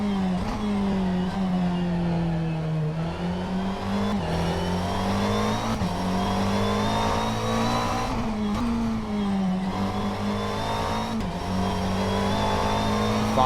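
A McLaren race car screams around Brands Hatch in a sim racing game, its engine a loud continuous high whine rising and falling through gear changes and corners, with no speech.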